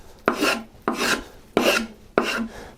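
A traditional wooden-bodied spokeshave takes light scraping cuts across wood in four even, rasping strokes, each a sustained close-up scrape separated by brief pauses.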